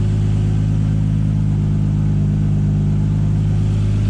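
A Toyota 2JZ engine idles steadily and loudly up close, a constant deep droning rumble with no talk.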